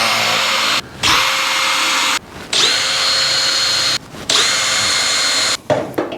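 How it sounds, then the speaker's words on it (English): A power drill drills out spot welds on a 1962 Mercury Comet inner fender apron. Four loud, close, sustained bursts of whining drilling are separated by short pauses. "I gotta drill out spot welds now."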